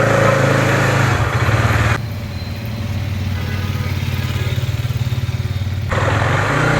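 A Hero Xtreme 250R motorcycle engine runs loud and close, a throbbing rumble that drops briefly then settles into a steady, pulsing idle.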